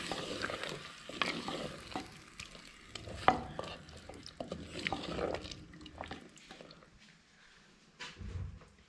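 Desi chicken dum pukht is stirred in a handi pot, with repeated scraping spoon strokes over soft, intermittent sizzling, close and fairly quiet, with a few louder clanks.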